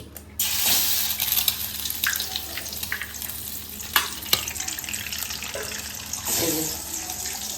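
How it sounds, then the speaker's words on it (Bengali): Eggs frying in hot oil in a pan, a steady hissing sizzle close by with occasional clicks and clatter, no talking. "তেল দেওয়ার পরে আমি প্রথমে আগে ডিমগুলো ভেজে নিচ্ছি"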